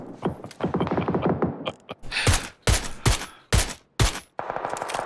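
Bursts of automatic gunfire in PUBG, loud and close, firing in several sharp volleys with brief gaps, preceded by a faster rattling string of shots.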